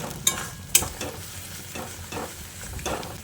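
Spice masala stirred and frying in a pan for a Bengali vegetarian taro (gathi kochu) curry, with a steady sizzle and two sharp spoon scrapes early on, then softer stirring strokes, close and moderately loud, no talking.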